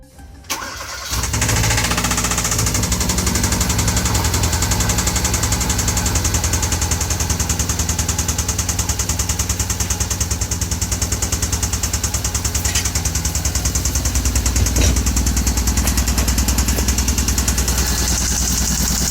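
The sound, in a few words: Hyundai Veloster Turbo engine starting and knocking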